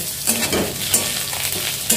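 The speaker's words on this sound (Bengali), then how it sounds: "আলু আর পেঁয়াজ খুব ভালো করে ভাজা হয়ে গেছে" Steady sizzling of potatoes and onions frying in a pan, with a few sharp scraping stirs scattered through; no voices.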